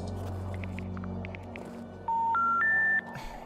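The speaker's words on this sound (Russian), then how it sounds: "Нахрена я поставил будильник на 2 часа ночи?" In Minecraft, a low hum and faint clicks, then three short electronic alarm clock beeps climbing in pitch, the last held slightly longer.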